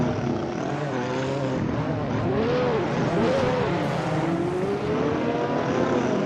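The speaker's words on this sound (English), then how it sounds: "You can see those combustion engines once again" Combustion-engined race cars in a racing video game roar continuously, with engine notes rising and falling as cars pass and shift, loud and close without a break.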